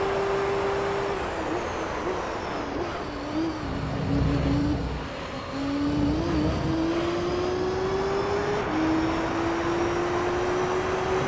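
A 500-horsepower race car in Gran Turismo Concept 2002 Tokyo-Geneva, its engine note climbing steadily through the gears with sharp shift drops, loud and continuous with no voices.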